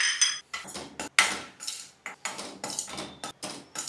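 A metal spoon clinks and scrapes against a thick-bottomed pan while ghee and bajra (millet) flour are added, giving a close series of sharp, bright knocks with short pauses between them and no talking.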